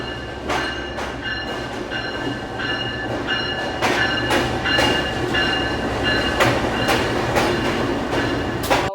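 A passenger train from Lahore pulls into platform 3 at a station in Pakistan, its wheels clattering in a steady run of rhythmic clicks over a continuous low rumble, loud and close, with no talking.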